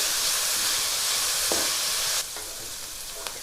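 Onions frying in a pan with a pinch of salt give a steady, close sizzle with occasional stirring clicks, the frying noise dropping slightly quieter partway through.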